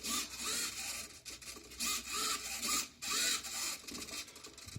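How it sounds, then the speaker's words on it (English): A stepper motor drives a ball-balancing beam, giving off soft, repeated whirring and grinding pulses in quick irregular bursts, close by and fairly quiet, with no voices over it. "where this green light comes on, you can hear the stepper motor actuating"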